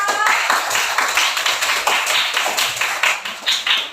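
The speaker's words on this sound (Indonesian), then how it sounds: "Tepuk tangan dulu untuk kelompok 4" Classmates clap for a student group in a classroom, a scattered run of light, quick hand claps at moderate distance, uneven and thinning toward the end.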